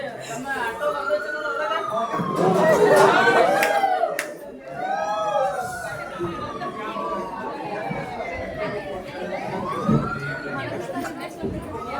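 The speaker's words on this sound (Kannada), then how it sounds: "ಆಂಬುಲೆನ್ಸ್ ಬರ್ಬೋದು" A wailing ambulance siren rises and falls repeatedly, fairly close, over a busy background of chattering voices and street noise.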